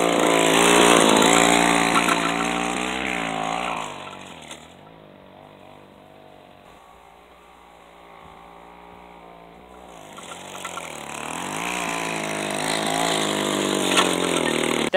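A Wards Riverside moped's small engine strains up a short snowy hill, buzzing loud and close, then dropping to a lower, quieter drone midway before revving back up to a high, raspy whine.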